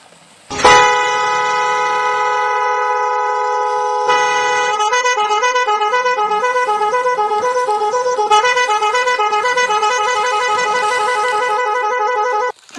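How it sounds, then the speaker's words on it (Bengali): In an animated story, a school bus speeding along sounds its horn in long, loud, sustained blasts that later break into rapid repeated toots, close and prominent with no talking. "বাসটা তো খুব জোরে ছুটতে থাকে।"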